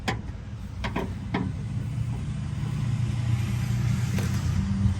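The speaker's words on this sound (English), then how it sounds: "Oh, I love the sound of a good turbo." A turbo diesel engine runs nearby, a steady low rumble that builds slightly over a few seconds, with a couple of faint metallic clicks in front.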